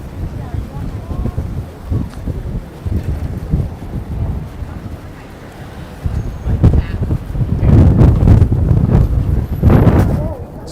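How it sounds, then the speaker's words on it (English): Strong gusts buffet the microphone on a New York City street, a rumbling roar that swells and fades, growing loudest and most blustery toward the end, with faint talk in the background. "It's amazing how windy it is."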